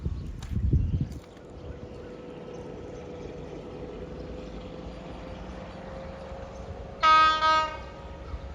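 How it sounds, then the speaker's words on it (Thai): Two Thai trains pass each other at Ban Meng community: express train 32 and train 257. A low rumble of rolling wagons runs throughout, and near the end a loud train horn sounds twice in close succession. "มาสองขบวนพร้อมกันนะครับ"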